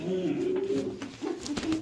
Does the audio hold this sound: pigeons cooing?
yes